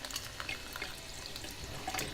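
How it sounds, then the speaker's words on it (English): Water pours and splashes steadily onto an indoor jade succulent in a pot with a drainage hole, a close, continuous trickle with faint drips and no voices. "let's water the jade"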